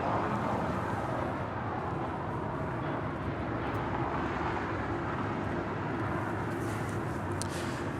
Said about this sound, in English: This 777-200ER, number 3 for departure.